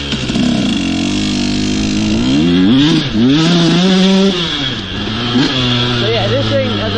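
A 2020 KTM 150 SX two-stroke dirt bike with a race head and Pro Circuit muffler is ridden nearby, its engine revving up and down in loud rising and falling sweeps as it shifts through gears.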